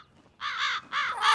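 Cartoon crows caw three times in quick succession, loud, harsh and close, each call a drawn-out rasp with short gaps between, and no talking over them.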